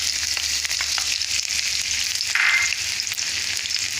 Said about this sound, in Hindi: काजू, बादाम और पिस्ते डाल के ब्राउन होने तक इसको भून लेंगे।